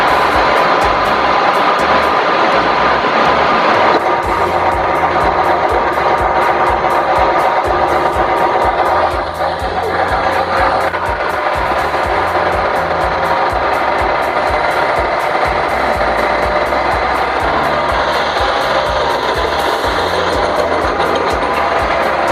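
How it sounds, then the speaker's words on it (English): An SGJ1100RPA single-head wide belt sander grinding solid wood, a loud continuous roaring rasp of belt and motor that holds steady throughout, with slight changes as the workpiece feeds through and no talking. "now I would like to use this solid wood to test this machine."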